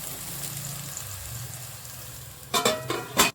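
Brinjal pieces for vangi bath fry in a pan with a soft, low sizzle, followed by a few sharp clattering knocks near the end, like a lid or spoon against the vessel.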